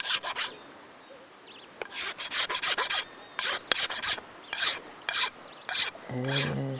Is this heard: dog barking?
no